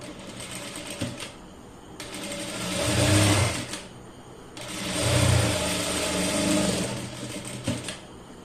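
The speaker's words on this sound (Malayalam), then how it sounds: "ആദ്യം 1/4 ഇഞ്ച് പിന്നീട് ഒരു 1/4 ഇഞ്ച് മടക്കിയിട്ടാണ് ഞാനിപ്പോ സ്റ്റിച്ച് ചെയ്യുന്നത്." A sewing machine stitches a sleeve hem folded twice by a quarter inch, its motor whirring in two long runs with brief pauses and soft clicks between them, close and steady with no talking.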